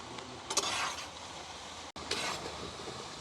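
Potato chips frying in oil in a village kitchen; a soft, steady sizzle and bubbling with a couple of brief stirring swishes, faint and alone with a momentary break.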